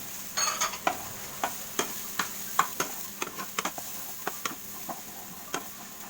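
Onion being sautéed in a pan after browned garlic, while cooking chicken liver, heart and gizzard with tomato: a soft sizzle under a series of sharp clicks and taps from stirring, spaced through the clip with no talk.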